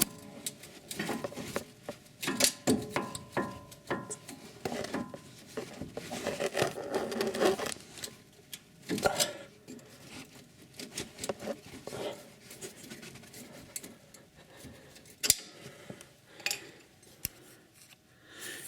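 A screwdriver pries at a clamp on a car's front suspension stabilizer bushing, producing irregular close scraping, clicking and metallic scratching in uneven bursts with short quiet gaps.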